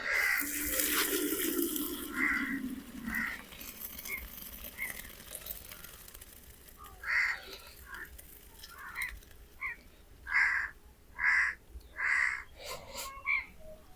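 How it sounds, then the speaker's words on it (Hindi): Water from boiled rice pours and splashes out through a strainer for a few seconds, then stops, leaving crows cawing repeatedly in the background. "और छानने में चावलों को छान लेते हैं।"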